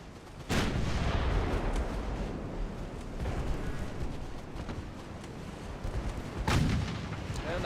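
Japanese 9-inch Mark III naval guns fire in a dreadnought-era warship battle in the game Ultimate Admiral Dreadnoughts. Two heavy booming salvos land several seconds apart, each trailing a long rumbling roar.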